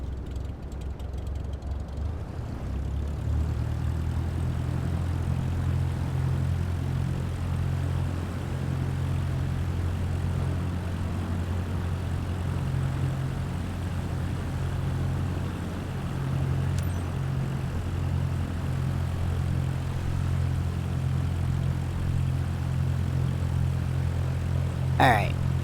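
A propeller airplane in Microsoft Flight Simulator 2024 drones with a steady engine hum as it lines up for takeoff on the runway. The sound builds after a quiet start and then holds at a constant level, with no talking.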